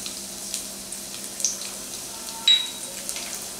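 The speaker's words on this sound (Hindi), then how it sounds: "पैन में मैंने 1 टीस्पून ऑयल लिया है। सबसे पहले हम इसमें ऐड करेंगे ऑनियन" Onion added to a pan with a teaspoon of oil and sautéed for pasta, a soft steady sizzle with a few brief louder clatters and spatters, close and fairly quiet.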